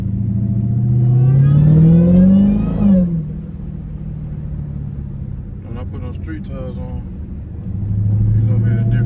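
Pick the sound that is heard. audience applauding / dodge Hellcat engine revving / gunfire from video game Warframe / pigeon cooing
dodge Hellcat engine revving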